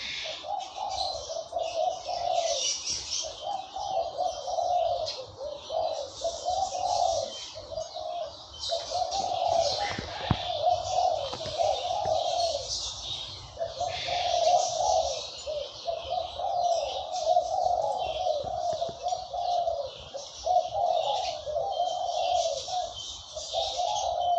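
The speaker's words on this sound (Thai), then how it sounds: "วันนี้ก็เสียงนกเขามา ให้ ให้ฟังกันนะครับ" A large white dove coos steadily in repeated soft phrases, with a few higher bird chirps in the background, continuing without pause throughout.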